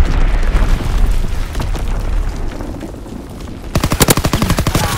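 Mortar rounds exploding in Call of Duty WWII multiplayer, heavy rumbling blasts mixed with rapid gunfire, ending in a sharp, fast machine-gun burst, all loud and close.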